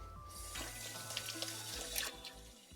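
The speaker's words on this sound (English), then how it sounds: "Fill this glass with water." Water from a kitchen tap running into a glass, a steady close splashing stream that starts after a brief pause and fills continuously, with a few faint clinks and low hum underneath.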